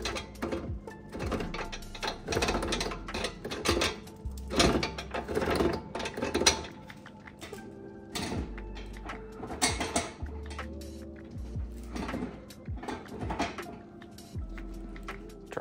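A race mower's gear shifter, built on a Murray mower, is worked through its positions, giving repeated close mechanical clunks and ratcheting clicks in uneven bursts, some louder knocks among them.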